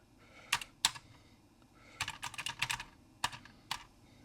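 Typing on the mechanical keyboard of a Cambridge Computer Z88 comes as scattered bursts of crisp, close keystrokes separated by short pauses, with no talking.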